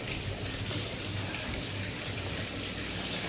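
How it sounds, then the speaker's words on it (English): An indoor water fountain fills a whole floor of a building near Myrtle Beach with a steady, loud, continuous splashing and rushing of water. "a whole floor has been turned into a really grotesque water fountain"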